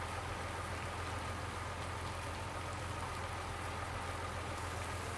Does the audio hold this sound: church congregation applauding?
no